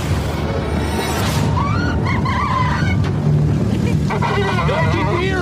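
A tractor engine runs steadily nearby in a woodland setting, its low, even drone continuous throughout while people talk over it.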